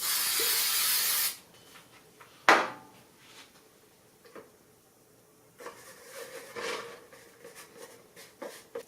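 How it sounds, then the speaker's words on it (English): A steady, loud hiss of spray adhesive from an aerosol can for over a second, aimed at the bottom of a bucket, followed by a clunk and quieter handling noises. "I'm going to spray adhesive it to the bottom of the bucket"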